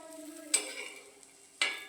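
Steady frying sizzle of vadis in a pan with little oil, with two sharp bursts of louder crackling as batter hits hot oil.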